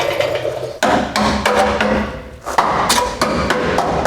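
A pointy screwdriver is driven and beaten into solid rusted metal on a VW Beetle, giving repeated loud, close jabs and grinding scrapes in an uneven rhythm.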